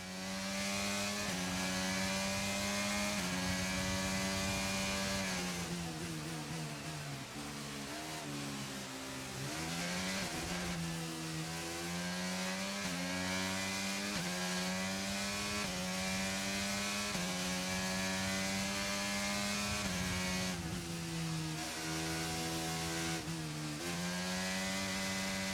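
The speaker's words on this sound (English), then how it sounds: "see how the engine sounds a bit different as well?" Race car engine in the F1 23 racing video game, loud and continuous, its pitch climbing and dropping through repeated gear shifts and revs.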